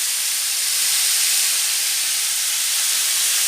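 Pork spare ribs sizzling in a pan as they cook, a loud steady hiss with no pauses and no voices.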